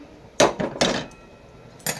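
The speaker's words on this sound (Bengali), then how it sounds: "কড়াইটা বসালাম" A metal wok (kadai) is set down on a gas stove in a home kitchen, giving a couple of close, hard clanks followed by a shorter knock, moderately loud against a quiet background.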